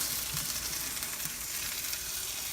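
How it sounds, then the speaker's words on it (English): Onions sauté for burgers in a pan, giving a steady, dense sizzle and crackle heard close and alone. "I like sauteed onions. So, sauteed onions for the burger."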